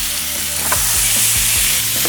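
A huge seasoned burger patty, smashed flat on a hot grill, sizzles steadily and loudly from start to finish, with a few brief scraping knocks of a spatula breaking through the hiss.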